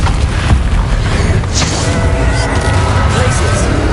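Catapulto spell in Hogwarts Legacy unleashing loud booming thuds and crashing impacts over constant combat rumble, with sharp hits punctuating the dense noise.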